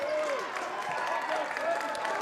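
Crowd applause at a high school basketball game as a player is substituted, steady clapping throughout under a voice talking.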